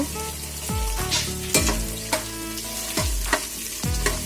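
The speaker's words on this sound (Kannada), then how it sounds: "ಒಂದು ಟೇಬಲ್ ಸ್ಪೂನಷ್ಟು ಶುಂಠಿ ಬೆಳ್ಳುಳ್ಳಿ ಪೇಸ್ಟ್ ಹಾಕ್ತಾಯಿದ್ದೀನಿ ಇದು ಸ್ವಲ್ಪ ಹಸಿ ಸ್ಮೆಲ್ ಹೋಗೋವರೆಗೂ ಎಣ್ಣೆಯಲ್ಲಿ ಚೆನ್ನಾಗಿ ಬಾಡಿಸ್ಕೊಳ್ಳೋಣ" Ginger garlic paste sizzles loudly in hot oil while being cooked for kushka rice, with a bright, crackling fry close to the pan and several quick stirring scrapes.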